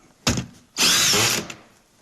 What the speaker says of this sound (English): A professional drywall gun.